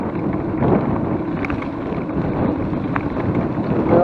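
Steady wind buffets the rider on a November motorcycle ride-out, a loud, broad rushing roar close to the microphone that holds constant throughout, with no talking.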